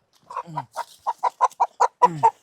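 A hen clucks close by in a quick series of short, rhythmic clucks, mixed with a couple of lower drawn-out calls.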